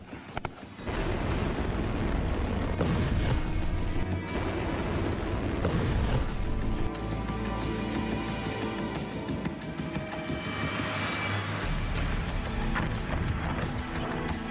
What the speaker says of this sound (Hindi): वही धमाके का शोर,